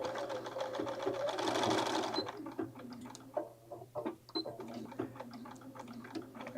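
A sewing machine stitches back and forth over zipper ends in a rapid close mechanical run, then slows into short bursts and a few separate stitches.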